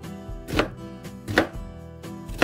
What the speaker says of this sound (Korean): 양파도 채 썰어줍니다.